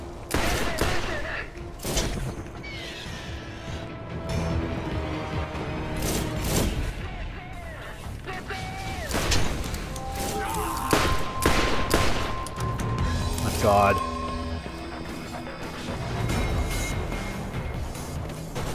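Borderlands combat gunfire, repeated sharp shots and short bursts scattered through a busy firefight, loud and close, with game effects and occasional chimes mixed in.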